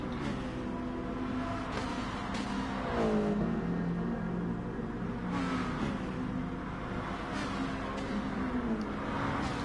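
Ferrari race car engines drone in a racing game, a continuous loud mechanical roar with rising and falling pitch as cars accelerate and shift, close and steady throughout without pause.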